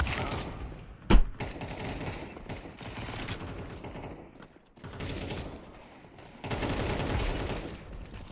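Rapid bursts of automatic gunfire in a first-person shooter video game sound as dense crackling sprays, with one sharp loud shot near the start and a short lull before the firing resumes.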